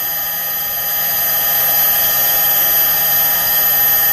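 A CNC mini mill cuts a hole for a ball screw nut, giving a steady high-pitched whine with tonal overtones, loud and close and unchanging throughout.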